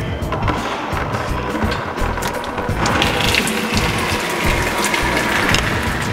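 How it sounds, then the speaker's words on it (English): A ratchet wrench clicks steadily as transmission pan bolts are backed out on a 700R4 automatic transmission, a close, busy mechanical rattle of pawl and gears running continuously with no talking. "we're gonna have to take all of the pan bolts off"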